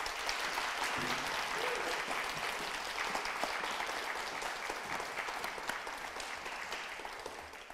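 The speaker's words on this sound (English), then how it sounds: "give a round of applause to all our presenters" Conference attendees clap for presenters, a sustained wash of applause from a moderate crowd that gradually tapers over about eight seconds, fairly soft and even.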